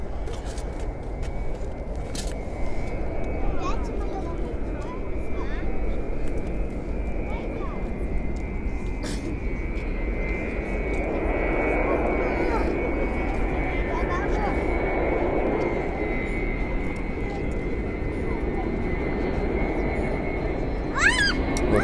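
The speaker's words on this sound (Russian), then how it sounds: "Идет самолет на посадку." Low-flying airplane coming in to land over a Sochi beach, a loud continuous engine roar holding steady throughout, with faint voices and outdoor ambience beneath.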